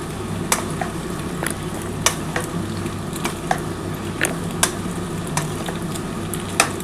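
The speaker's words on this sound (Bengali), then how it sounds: "এবার এর মধ্যে পাস্তা দিয়ে দিয়েছিলাম আর 2খানা কাঁচা লঙ্কা দিয়েছি। এবার একটু ভালো করে নাড়াচাড়া করে নিচ্ছি।" Pasta frying with onion, ginger, garlic and green chillies in a pan, a steady sizzle under a run of sharp, irregular spatula scrapes and taps, close up, with no voices.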